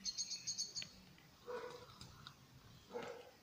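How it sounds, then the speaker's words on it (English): Small birds chirp in short bright bursts outdoors above a cherry tree, a quick run of tweets at the start and a few scattered calls later, fairly faint. "Loads of birdies above and the cherry tree."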